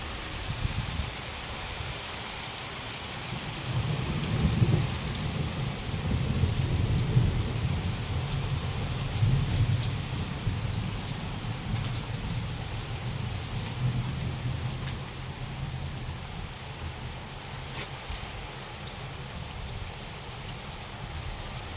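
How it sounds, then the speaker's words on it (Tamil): Steady rain falling outside a house, with low rumbles of thunder rolling underneath, a continuous wash of rain with the thunder swelling loudest early on, no voices. "மழை பெய்யுது."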